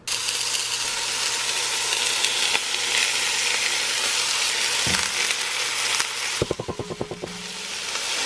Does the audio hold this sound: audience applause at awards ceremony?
no